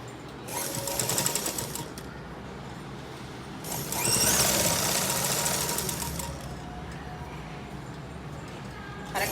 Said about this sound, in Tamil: மார்க் பண்ணிவிட்டு அப்படியே கிராஸாக வி ஷேப்பில் இப்படி தைக்கணும்.